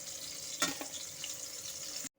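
Katla fish fries gently over low heat in oil in a pan, a soft, steady sizzle with a brief burst of crackling and a clink early on, close but quiet, ending abruptly.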